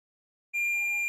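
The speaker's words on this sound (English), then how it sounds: "right there, now it's beeping" A sharp, steady electronic continuity beep from a multimeter testing an X Station ODE board, starting abruptly partway in and holding a single pure tone to the end, with no talking.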